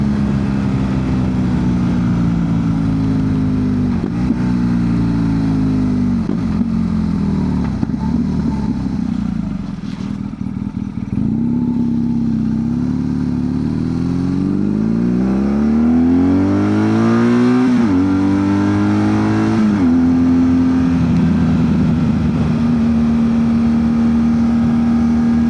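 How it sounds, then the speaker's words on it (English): A BMW R1200 GSA motorcycle with a GRmoto exhaust, baffle removed, revs up and down loudly and close by, its engine note rising and falling, with pops and crackles from the exhaust as the throttle closes. "As you can hear on the overrun, there's lots of pop backs with the baffle out."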